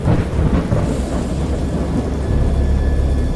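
Deep rolling thunder in the PC game Dagon rumbles continuously over steady heavy rain, loud and close, with no voices.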